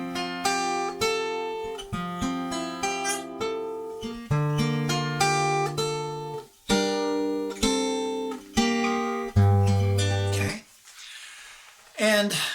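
Plucked acoustic guitar strings ring out in a flowing fingerpicked pattern with clear bass notes, a brief pause near the end, then a fresh note.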